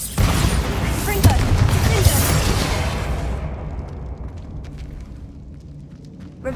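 A Confringo blasting spell explodes in the Hogwarts Legacy video game, a loud roaring burst with crackling debris that rumbles on for several seconds, then fades away into quiet.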